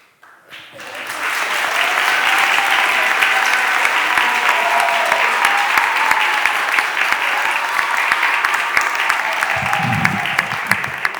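A city council chamber audience applauds the youth, with clapping swelling quickly and then sustaining as a loud, even roar, while a voice briefly sounds beneath it near the end.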